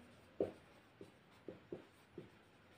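A pen writes on paper during a geometry lesson, five soft separate taps and short strokes, very quiet and close, with no other sound around them.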